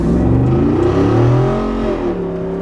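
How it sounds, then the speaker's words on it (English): A Jeep Wrangler Rubicon 392 V8 rumbles deep and close, its revs rising and falling in a throaty swell before settling back. "now jumping into the Wrangler Rubicon 392. This thing just sounds really good at startup"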